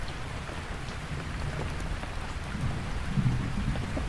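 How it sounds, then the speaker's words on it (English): Rain patters steadily on a camping tent while deep, loud thunder rumbles and rolls beneath it, swelling toward the end; no one speaks. "the fact that I'm now aware of the loud rumbling thunder."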